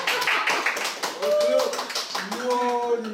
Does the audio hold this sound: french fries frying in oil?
no